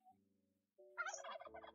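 A turkey in a GT6 video game mod gobbles once, a short loud rattling burst after a faint lower call.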